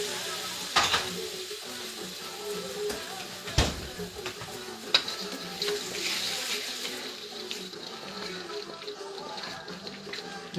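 Food sizzling in a home kitchen pan right after a splash of cooking wine goes in, a steady broadband hiss with a few sharp clinks and stirring knocks, fairly close.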